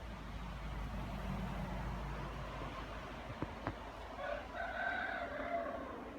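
A rooster crows once at a farm coop on a snowy day, a moderately distant call rising over a low steady background rumble.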